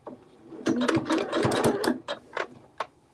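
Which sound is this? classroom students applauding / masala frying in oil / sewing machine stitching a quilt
sewing machine stitching a quilt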